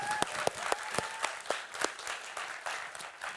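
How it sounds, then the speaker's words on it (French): Audience at a live creator awards show applauds, with distinct, fairly quiet claps scattered over a soft background murmur of the hall. "est-ce qu'on peut juste les applaudir une nouvelle fois s'il vous plaît?"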